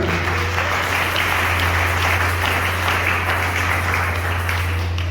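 A congregation applauding during a Sunday church service, a dense, steady wash of clapping that runs unbroken from start to finish over a low background hum.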